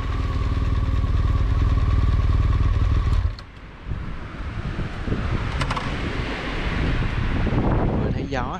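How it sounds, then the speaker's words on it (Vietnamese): Strong gusty wind by the sea at Cà Ná beach, Ninh Thuận, roaring loudly into the microphone at first, then dropping and rising again in rough, uneven gusts. "Gió mà gió nó giật từng cơn luôn á."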